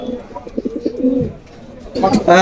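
A male teddy pigeon gives a few short, low coos close to the microphone, followed by a brief burst of louder, brighter sound at the end.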